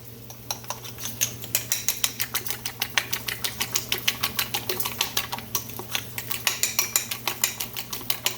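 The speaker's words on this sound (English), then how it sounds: "beat your eggs really well" Eggs are beaten hard in a bowl with a fork or whisk, a fast, steady, rhythmic clicking and tapping against the bowl, close and continuous over a low kitchen hum.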